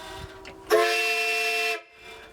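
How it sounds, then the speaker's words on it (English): One loud, sustained air horn blast from a Peterbilt 379 truck, with a bright, multi-toned blare, held for about a second before cutting off abruptly. "This is an air horn."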